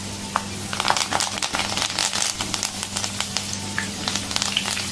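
Curry leaves drop into hot oil where peanuts are frying for a Tamil snack, giving a loud, busy crackling sizzle with dense spitting pops over a steady hum.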